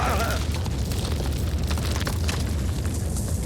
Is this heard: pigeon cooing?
no